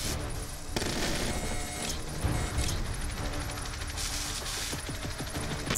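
Sustained gunfire from Call of Duty Black Ops 2, dense bursts of automatic weapons and scattered booms in a continuous multiplayer firefight, steady and fairly loud throughout with no talk.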